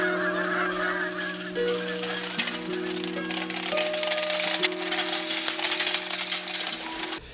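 A flock of geese honks repeatedly in a film scene, loud overlapping calls running steadily throughout against a constant background hum.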